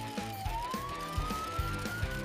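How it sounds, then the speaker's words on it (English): A police siren wails with a slowly rising tone over a bouncy, thumping music beat, loud and continuous. "Siren on!"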